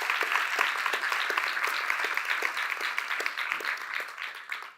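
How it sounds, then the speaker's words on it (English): An audience at a discussion evening applauds, a brisk crowd of hand claps that holds steady, then thins and fades out at the end. "So an applause for them, please"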